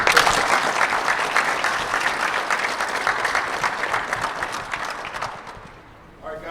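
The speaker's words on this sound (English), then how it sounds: "Clap it up, Joe." Applause from a group of young players at a football combine held in an indoor rink, steady loud clapping that carries on for several seconds before tapering off at the end.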